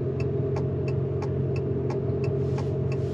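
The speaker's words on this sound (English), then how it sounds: "An EV making making fake engine noises." Synthetic engine sound from a 2024 Abarth 500e electric hatchback heard from inside the cabin, a steady low droning hum with regular ticking pulses repeating about three times per second.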